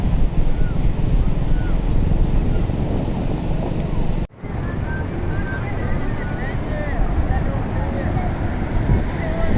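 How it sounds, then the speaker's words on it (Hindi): Ocean surf rolling onto a Karachi beach, a loud continuous wash of breaking waves mixed with heavy wind buffeting the microphone, with a brief dropout midway. "लहरें आ रही हैं और साहिल से टकरा के वापस जा रही हैं"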